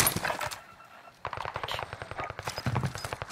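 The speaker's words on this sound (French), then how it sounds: "J'essuie des tirs." Rapid automatic gunfire from a Modern Warfare battle on Rebirth Island, a dense stream of sharp close shots rattling in sustained bursts, with a brief lull before the firing resumes just as loud.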